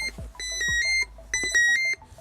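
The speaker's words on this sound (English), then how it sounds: "The WASP alarms." A WASP tilt monitoring device alarm sounds in repeated bursts of high, piercing beeps, two clear pulses of rapid tones with a short gap between them.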